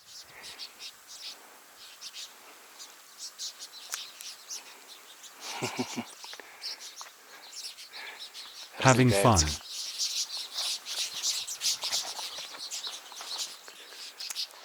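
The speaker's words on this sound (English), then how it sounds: "A flock of birds catches spiders flying on the web." A flock of birds catching spiders in flight near a hut calls with dense high chirps and twitters across the whole stretch, a loud burst of calls in the middle, while a voice speaks briefly.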